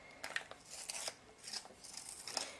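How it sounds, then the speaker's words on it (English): Colored pencils being sharpened quickly, a close, dry scraping and shaving sound in short repeated bursts for a few seconds, fairly quiet. "Sharpen my pencils real fast."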